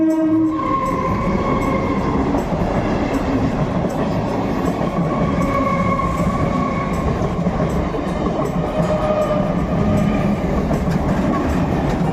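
A train passes along the tracks with a continuous rumbling roar and wheel clatter, and sustained horn-like tones sound over the noise throughout.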